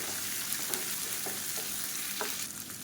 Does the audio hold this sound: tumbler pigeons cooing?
no